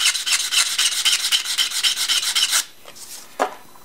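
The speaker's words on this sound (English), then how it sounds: "Now, I'm going to sand to make the cut" Rapid, close, rhythmic rasping as a cut in a bamboo dip pen is sanded wider, a steady back-and-forth scrubbing that stops abruptly, followed by a couple of faint scrapes.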